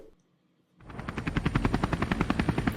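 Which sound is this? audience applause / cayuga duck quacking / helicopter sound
helicopter sound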